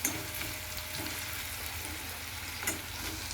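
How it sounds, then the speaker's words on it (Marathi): Onion frying in oil until pink, a steady close sizzle throughout with faint stirring scrapes. "कांदा असा चांगला गुलाबी याच्यावर भाजायचा"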